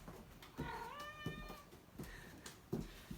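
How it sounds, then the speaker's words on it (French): A domestic cat meows indoors, one drawn-out rising and falling meow followed by softer short sounds and thumps, fairly quiet and close with no talking. "Le chat a envie de parler, donc il vous parle sur la vidéo."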